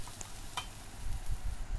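Onion and garlic frying in a pan for chicken curry, a soft steady sizzle with faint stirring clicks, close and quiet with no talk.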